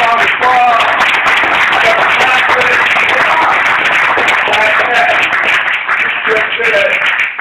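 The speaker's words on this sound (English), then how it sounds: "Big round of applause." Audience applause at a commemoration event in Buffalo, a dense, loud and sustained wash of clapping with a few voices mixed in.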